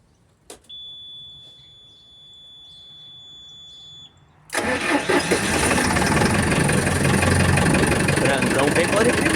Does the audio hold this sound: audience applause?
no